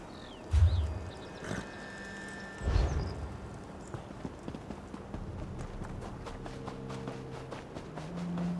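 Horse hooves clip-clop steadily in Oblivion as the rider travels toward Castle Kvatch, the even footfalls running under distant game ambience with a couple of heavier thumps early on.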